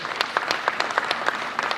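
At an awards ceremony, the audience claps for the ATS directors: a brisk round of crowd applause with distinct sharp claps, close and loud throughout.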